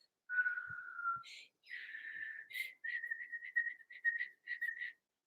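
A person whistles a short tune alone, a long held note followed by several quick, bright chirping notes with brief pauses.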